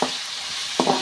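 Tomatoes hitting hot oil in a pan, a steady close sizzle with a sharper burst of crackle and hiss near the end, alone and without talk.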